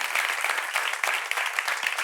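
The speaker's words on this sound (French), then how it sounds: "On l'applaudit pendant qu'il arrive, s'il vous plaît." A live audience at a public debate applauds steadily as a participant comes forward, dense continuous clapping close by without a break.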